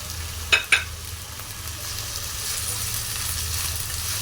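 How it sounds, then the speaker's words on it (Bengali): Green beans frying in a pan for fried rice, a steady soft sizzle with two sharp scraping clatters of the stirring spoon near the start, then continuous hiss. "বিনসটাও ভাজা ভাজা করে নেব।"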